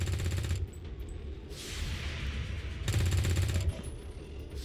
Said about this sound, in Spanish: ¿Cuántos disparos fallaremos?